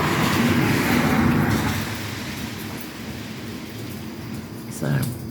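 Steady rain falls on a rainy day with a low rumble of thunder underneath, loud at first and easing slightly, with a brief swell near the end; a voice is also present.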